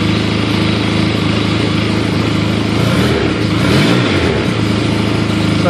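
A 2012 Arctic Cat XF 1100 Sno Pro snowmobile engine runs loud and close throughout, with a steady droning roar that rises slightly in pitch partway through before settling back.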